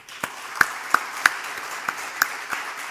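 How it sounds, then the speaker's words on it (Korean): A church congregation claps after a praise contest, a sparse scattering of separate hand claps that sound roughly every third of a second over a roomy background. "박수 한번 해주세요"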